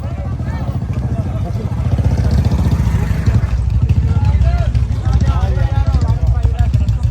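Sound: tractor engines running

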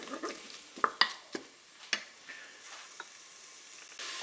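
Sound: stirring curry-spiced food in a Cookeo pot

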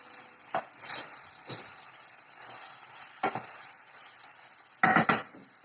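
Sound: mushrooms, meat and vegetables frying together in a pan

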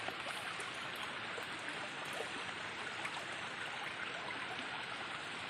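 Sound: flowing rainwater stream

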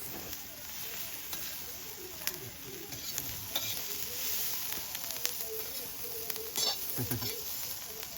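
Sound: green chillies roasting in a pan for chilli thecha

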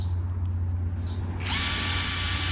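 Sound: OSUKA cordless brushless electric impact wrench running

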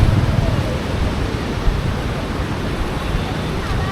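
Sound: water flowing at Iranaimadu tank, Kilinochchi

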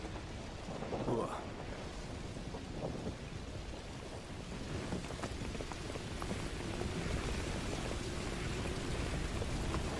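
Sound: rain falling in Call of Duty Modern Warfare 2 Remastered video game

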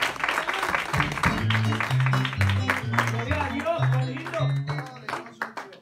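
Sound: church congregation applause

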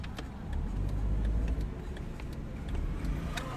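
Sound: car driving badly on a road

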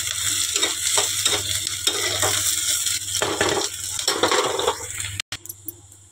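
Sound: potatoes frying in a hot kadai

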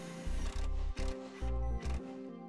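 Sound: driving a self-tapping screw into car bodywork

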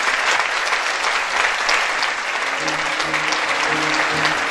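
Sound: applause at political event

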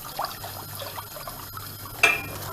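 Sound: stirring grape juice and corn starch in a pot

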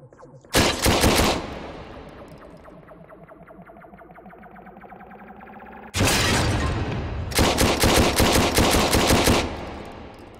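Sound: explosion in a video game

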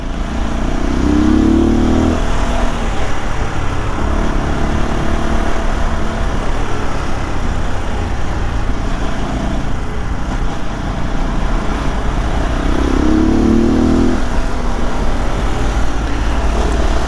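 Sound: RX3 i Evo motorcycle revving through evening traffic

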